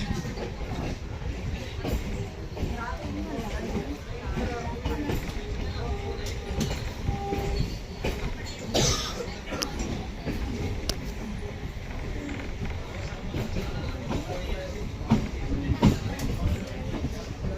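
A train running toward Sealdah station, with a steady broadband rumble and rattle throughout and a person talking over it.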